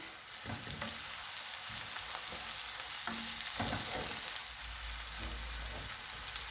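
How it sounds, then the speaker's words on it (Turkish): Green peppers and onions sauté in a pan in a Turkish kitchen while eggplant börek is being made. The soft sizzle is steady, with scraping from stirring and light clinks at irregular moments. "Bunlar hafif yumuşayıncaya kadar burada soteleyeceğim."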